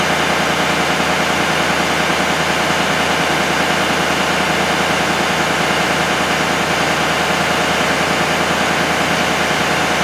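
A warmed-up Ford 6.7 Powerstroke diesel with a check engine light and low boost runs at a steady idle, producing a constant, loud, even drone with no breaks or revving throughout.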